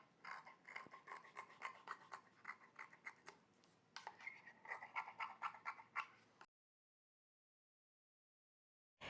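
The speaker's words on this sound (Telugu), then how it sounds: "ఇప్పుడు కటింగ్ చేసేద్దాం" Scissors snipping through blouse cloth during tailoring, a run of close, crisp repeated cuts with rasping fabric sounds for several seconds before falling silent.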